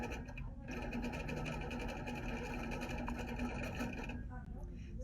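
An HQ Capri quilting machine stitches fabric in a fast, steady mechanical whir with a rapid needle rhythm, close and continuous, then stops near the end.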